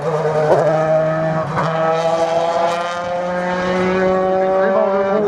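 A race car climbs the course at a regional hill climb at Hébécrevon, its engine loud and near, holding a steady high drone with a brief gear-change dip early and then a rising pull.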